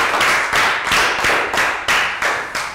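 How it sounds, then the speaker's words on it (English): Pupils in a primary English classroom clap in a steady, even rhythm, crisp and close, about two claps per second with no talking. "Round of applause for Dan."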